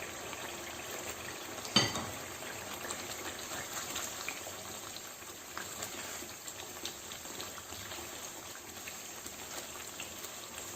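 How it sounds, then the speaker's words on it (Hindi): Finely chopped green chillies and masala frying in oil over medium heat, a soft, steady sizzle with a small clatter near the start, faint and continuous with no talking. "मसाले को थोड़ा भूनेंगे।"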